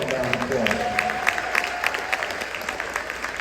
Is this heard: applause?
yes